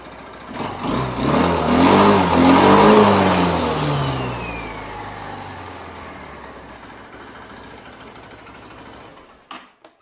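A Triton Baja 250R quad bike engine starts and revs loudly, then settles into a steady running rumble that fades down before cutting off near the end.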